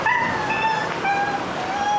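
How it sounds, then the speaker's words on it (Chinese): A small black stray dog being caught with a catch pole by sanitation workers in an alley lets out sustained high, strained yelps and whimpers, loud and close, with no talk over them. "巷子里凄惨的狗叫声惊动附近住户"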